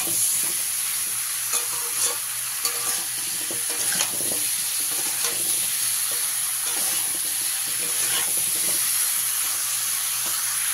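Raw pumpkin and other vegetables fry over a medium gas flame while being stirred, producing a loud, steady sizzle with frequent scraping strokes in the pan.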